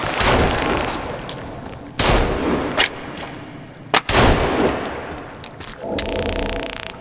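Pistol gunshots in the survival video game Sons of the Forest, several sharp separate cracks spaced irregularly over a few seconds, each with a short echoing decay, close and loud.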